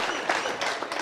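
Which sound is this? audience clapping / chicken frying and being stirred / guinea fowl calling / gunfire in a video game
audience clapping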